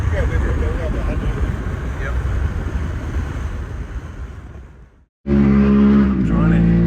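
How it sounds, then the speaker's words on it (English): Loud, steady wind and road roar inside an original Tesla Roadster cruising at about 90 to 100 km/h, continuous for several seconds before a brief cutout, then resuming with a car horn-like tonal layer. "Feel a bit of wind noise as you get up to, sitting on 90 kilometres an hour, is it?"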